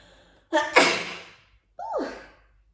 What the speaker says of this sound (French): Désolée, je vais éternuer.